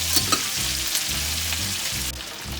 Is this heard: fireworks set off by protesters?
no